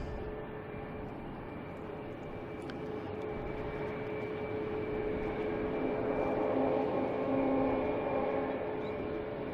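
A distant airplane flies past near Logan Airport. Its faint, broad drone swells gradually to a peak in the latter half, then holds, with no talking.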